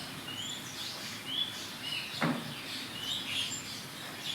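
Small birds in the trees on a sunny morning give short, high chirps and whistles. The calls are scattered across a quiet outdoor background, with one brief soft thud partway through.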